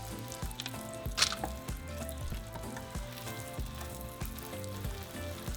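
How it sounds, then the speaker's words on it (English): A huarache sizzles as it lightly fries in hot oil on a comal, a steady close crackle with scattered pops and a faint scrape partway through. "we're going to place our huarache and we're going to lightly fry it for a few minutes"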